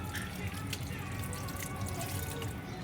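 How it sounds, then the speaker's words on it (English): Water trickles and drips into a bowl of mee goreng gravy, a soft steady pour with faint splashes, heard close and fairly quiet. "So I'm going to add in more water."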